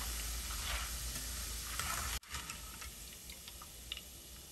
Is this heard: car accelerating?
no